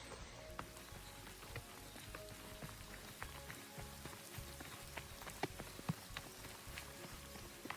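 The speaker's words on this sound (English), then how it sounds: "especially with this rain coming and going" Faint, steady patter of rain dripping onto a trail shelter on the Appalachian Trail in Vermont, with scattered small taps and a low background rumble.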